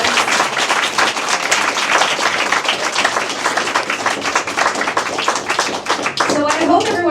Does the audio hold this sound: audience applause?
yes